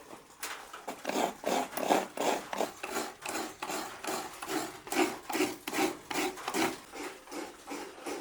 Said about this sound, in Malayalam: ഇവിടെ അമ്മ തേങ്ങ ചിരണ്ടിക്കൊണ്ടിരിക്കുക തേങ്ങ ചിരണ്ടി കഴിഞ്ഞിട്ടില്ല